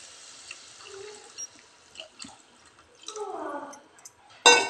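Soaked tamarind juice poured into simmering onion gravy for an egg boondi curry: a short liquid splash and trickle midway, with scattered drips and light kitchen clatter around it and no talk.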